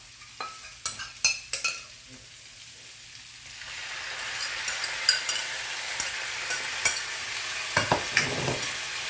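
Sauce hits a hot pan of stir-fried beef for rice noodles: a few sharp utensil clacks, then a steady loud sizzle with scattered stirring scrapes.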